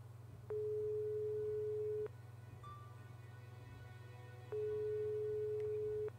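An unanswered phone call in The Serpent's Curse video game gives two long, steady ringing tones about two seconds apart over a low background hum, with nobody picking up.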